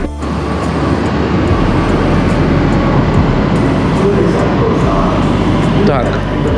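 A Bangkok metro subway train gives off a loud, continuous low rumble that fills the whole stretch, with people talking over it.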